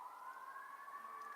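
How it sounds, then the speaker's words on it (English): A steady siren tone holds without a break, faint and distant, with no voices over it. "You can hear the sirens. There are definitely sirens."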